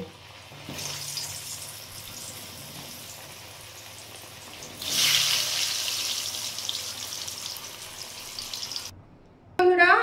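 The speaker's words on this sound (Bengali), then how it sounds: "আমি এই আলুগুলো ভেজে নেব।" Potatoes frying in oil, cut into pieces with a little turmeric, give a steady crackling hiss that swells louder midway before cutting off near the end.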